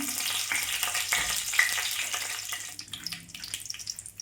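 Whole dried red chillies, cut and dropped into hot oil in a pan for tempering, sizzle and crackle steadily and close by, the frying noise fading and becoming patchier toward the end.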